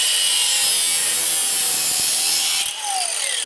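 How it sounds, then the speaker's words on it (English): Close, loud steady rasping of a saw cutting a length of wood for a knife handle, continuing nearly throughout before easing off near the end. "I think I'm going to split it now and then cut off 2 lengths of it."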